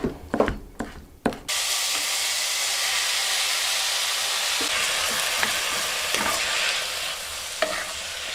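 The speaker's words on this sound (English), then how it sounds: "Our mushrooms, leeks, and garlic have sauteed for about 10 minutes" Chanterelle mushrooms, leeks and garlic sauté in a pan with a steady, close, loud sizzle. A few knocks and stirring scrapes open the clip before the frying takes over, with occasional light clinks.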